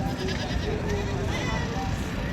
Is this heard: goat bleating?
yes